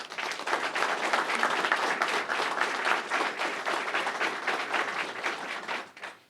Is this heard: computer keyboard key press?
no